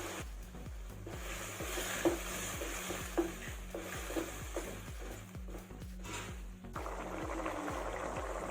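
Pork vindaloo, an Anglo-Indian dish of half-cooked pork, is stirred in a pan at home with a utensil, making repeated scraping strokes at a regular rhythm over a soft, continuous sizzle, close and moderately loud.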